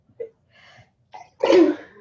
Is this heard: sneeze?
yes